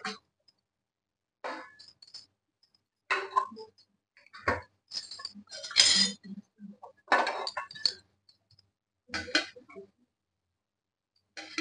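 Chicken biryani pot lid lifted after steaming, giving scattered clinks and light metallic knocks spread across several short separate bursts, fairly quiet with pauses between.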